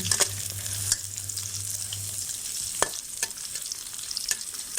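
Garlic fries in a pan until golden for a stir-fried snail dish, giving a continuous bright sizzle with occasional sharp spatula taps and scrapes, close and alone.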